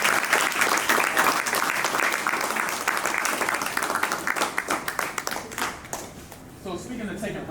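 An audience at an art show breaks into dense, sustained applause that thins into scattered individual claps before a voice starts speaking near the end.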